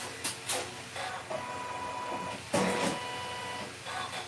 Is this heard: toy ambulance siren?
no